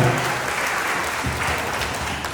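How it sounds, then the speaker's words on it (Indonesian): A large audience claps warmly at a PPDI 2023 gathering in Ketapang, a dense, steady wash of applause that fills the whole stretch at an even, fairly loud level. "Boleh berikan tepuk tangan yang meriah untuk beliau."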